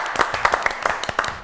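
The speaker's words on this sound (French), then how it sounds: "Applaudissements pour Coche" A studio audience on a French TV show claps for human beatboxer Kosh in a brief, moderately loud burst of scattered handclaps.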